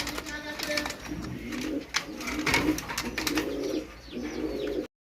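Pike Beauty pigeons, a breeding pair of hen and cock, coo in repeated low throaty phrases at close range, with someone talking intermittently through the calls.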